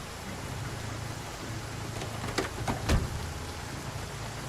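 Steady rain in the Project Zomboid video game, a soft continuous hiss with a couple of brief louder crackles near the end, faint and alone with no talking.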